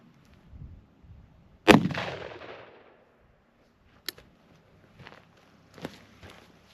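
A shotgun fires 7.5 birdshot in a single sharp, loud blast with a decaying tail. Faint clicks and a few lighter knocks follow in an otherwise quiet outdoor space.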